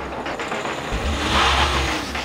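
A new Opel Insignia with a 2.0-litre 163 hp engine and automatic gearbox drives along, its engine note rising smoothly as it accelerates over steady road and tyre noise.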